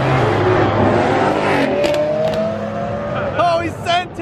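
Supercharged Dodge Challenger Hellcat rips a burnout leaving a Houston cars and coffee meet, a loud close engine roar climbing in revs with tire squeal, while excited voices talk over it.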